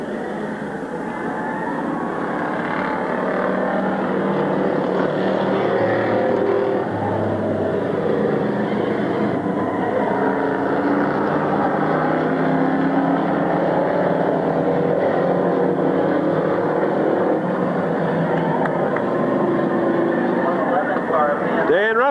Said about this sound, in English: 777 is Craig Fry, 6 is Dan Hensel, and C4 is Gary Hensel out there racing